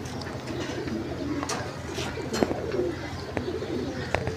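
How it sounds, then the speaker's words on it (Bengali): Pigeons on a large farm holding over a thousand birds coo softly and continuously, a dense murmur of calls with occasional wing flutters and small knocks nearby. "আমার বোধ হয় এখানে হাজারের উপরে কবুতর আছে"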